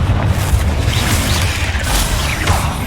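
A Confringo fire spell bursting in Hogwarts Legacy, a dense rumbling blast that fills the whole moment with deep low boom and crackling debris, loud and close, with no voices.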